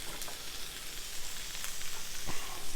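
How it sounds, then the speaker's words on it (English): Asparagus sizzling on a lightly oiled grill set to 400 degrees, a steady soft frying hiss with occasional light crackles and clicks. "Lightly oiled my grill here, and it's time to put the asparagus on."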